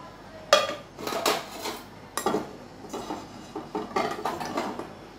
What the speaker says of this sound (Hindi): अब हम इसमें थोड़ा सा तेल मिक्स करेंगे।